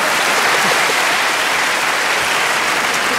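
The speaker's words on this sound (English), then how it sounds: "give them all a round of applause" Studio audience on a comedy panel show applauding, a loud, continuous wash of clapping that holds steady for the whole stretch with no talk over it.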